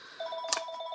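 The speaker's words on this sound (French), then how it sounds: "Bon, téléphone. Ça finit plus." A telephone ringing indoors, a faint electronic ring with steady high tones and a rapid warbling pulse, brief and fairly distant, with no voices.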